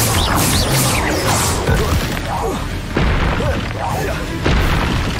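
A Confringo exploding curse goes off as a string of loud, booming blasts with crashing bursts and whooshes, repeated several times in quick succession.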